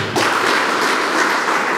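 A crowd applauds steadily, a dense wash of clapping that starts abruptly and holds at full volume.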